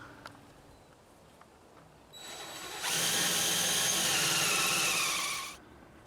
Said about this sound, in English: and then drill through the mounting plate